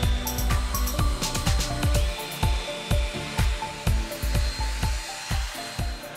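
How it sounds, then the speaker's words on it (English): A power drill boring holes into a sailboat deck during a deck hardware install, a fast run of repeated sharp bursts with a whirring tone, loud and close, with no talking. "that's all those holes drilled out"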